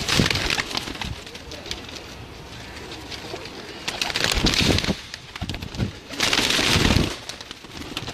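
Blue Kamgar pigeons coo in bursts over a busy outdoor background, with louder stretches around the middle and near the end of the clip.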